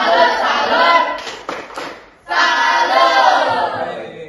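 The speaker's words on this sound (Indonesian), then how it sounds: "tepuk tangan buat Gemdui" A classroom group in a teacher-training session claps together for another group, a dense close burst that breaks off briefly and then resumes, with voices chanting along.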